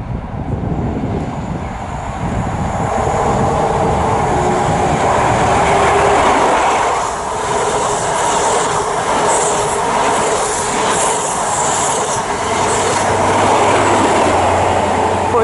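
A Class 66 diesel locomotive and its train pass through Patchway on a late evening, a loud continuous rumble and rolling rail noise sustained throughout, with wheel squeal and clatter close by and no talk.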